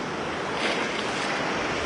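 Surf washes onto a beach where waves stand taller than a person, a continuous loud broadband roar with gentle swells and some wind rumble, no one speaking.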